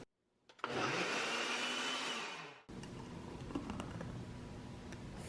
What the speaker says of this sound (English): This is my favorite blender. It is really loud, but it's so powerful